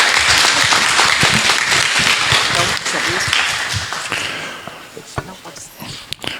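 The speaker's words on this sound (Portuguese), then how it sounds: "uma salva de palmas também a esses que vêm pela primeira vez" A church congregation applauds to welcome first-time visitors at a Sunday service: a loud, dense burst of many clapping hands that gradually thins out, ending in a few scattered claps, with voices mixed in.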